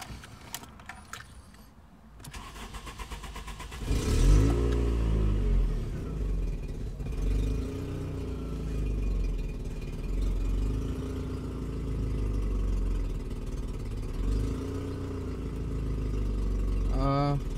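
A cold 1996 VW Passat B4 with a 2.0L engine, stock ECU, sitting three days, cranks and catches, then idles unevenly with throttle-cable blips. Nearby metallic rattles and jangling come first, and the engine is loud and close.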